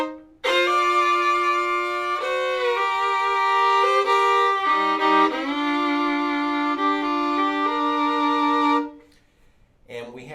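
A bowed bluegrass fiddle plays a slow hymn phrase of sustained notes with gentle slides, solo and close, ending in a short pause.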